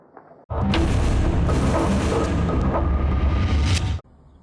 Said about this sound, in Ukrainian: Вибух ціною у 960 мільйонів доларів.